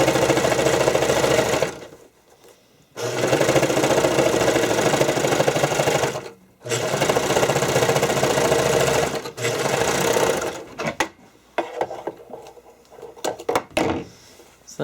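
A serger sewing machine stitches elastic onto fabric in long, loud, steady bursts of fast mechanical whirring, separated by short pauses and followed by brief stop-start runs, close up with no voices.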